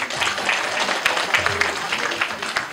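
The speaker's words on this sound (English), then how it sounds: "A warm clap." Warm applause from guests at a welcome dinner for an expo, steady dense clapping throughout, moderately loud, with faint murmuring voices underneath.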